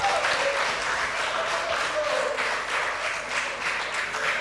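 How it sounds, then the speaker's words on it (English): Studio audience applause on a TV talent competition show, a steady dense wash of clapping that holds at full strength throughout with no voices over it. "A round of applause for Siam."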